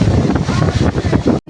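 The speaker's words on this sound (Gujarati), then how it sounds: "આમ જો પવન જોરદાર છે" Strong gusts roar across the microphone in a rain and wind storm, a loud continuous rumble and hiss that cuts off abruptly near the end.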